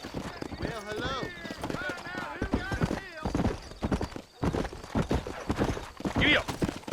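A horse's hooves clip-clop as it is ridden along a trail in Red Dead Redemption on Xbox Series X, with a brief whinny and voices talking over the rhythmic hoofbeats.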